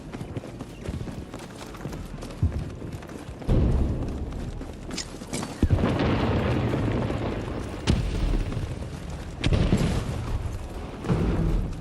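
Grenade explosions in a video game, several loud booming bursts at irregular intervals over rumbling background noise and clattering footsteps, no talk.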